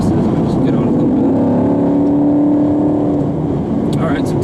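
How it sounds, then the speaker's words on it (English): A 2016 Chevrolet Camaro SS 2SS with an 8-speed automatic, exhaust set to track mode, roars loudly and close as the engine builds revs under light throttle, a rising droning tone held for a few seconds with someone talking over it. "See how loud the exhaust is."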